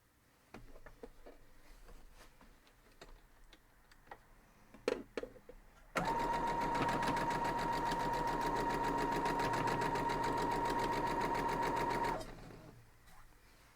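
Sewing machine stitching folded-over quilt block fabric for a dandy quilt block, with a few soft handling ticks and taps, then a steady, loud continuous whir running alone for about six seconds before it stops and fades.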